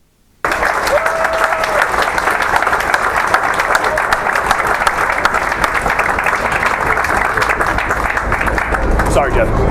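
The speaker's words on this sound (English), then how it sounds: "I want to give them a round of applause for putting this together" A ceremony audience applauds the Board of Officers with sustained, dense clapping that starts abruptly and continues loudly with crowd murmur throughout.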